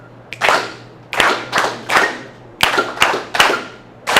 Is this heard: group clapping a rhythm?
yes